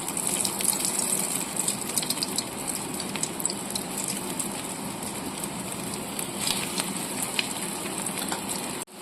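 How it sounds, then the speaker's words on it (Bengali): Bread pakoras frying in hot white oil in a kadai, giving a steady, dense crackling hiss that runs unbroken from start to finish, close and fairly loud, with no voices over it. "তেল গরম হয়ে গেছে, পকোড়াগুলো ছেড়ে দিচ্ছি।"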